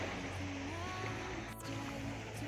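Ocean waves wash onto a beach at the Corniche in Pakistan as a steady, broad surf rumble, with a faint low hum running underneath and no talking.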